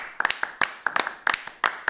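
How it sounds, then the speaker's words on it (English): A small group claps by hand at a live sports talk show. The claps are sharp, close and scattered, falling in short irregular bursts rather than a full crowd roar. "Let's give him a round of applause."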